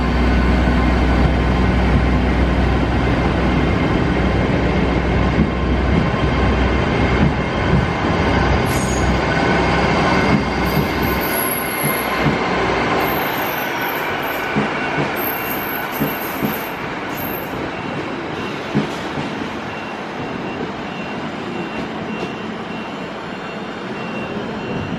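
A train pulls out of Leeds station bound for Harrogate with a loud rumble that gradually fades into the distance, accompanied by occasional high wheel squeals and faint beeps.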